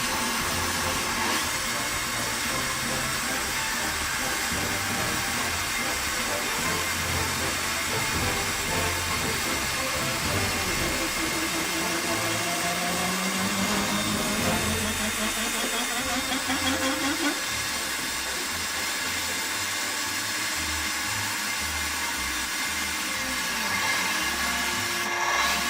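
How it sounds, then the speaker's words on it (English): A milling machine cuts the main body piece for a Back to the Future train model, a loud, steady whirring roar with a tone that slides up midway, continuing unbroken throughout. "Turn on the mill."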